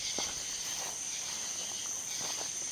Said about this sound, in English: It's so quiet, other than the sounds of insects.